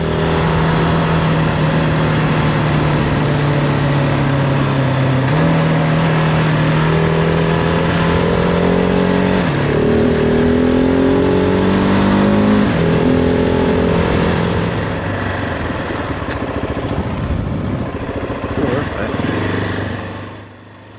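A GasGas ES 700 off-road motorcycle engine drones and revs steadily for about twenty seconds on a snowy trail climb, pitch rising and dipping as it accelerates, loud and close, fading near the end.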